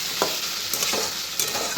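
Greens fry in a pan as they are stirred, a close, continuous sizzling hiss broken by short scraping strokes of a spoon every half second or so.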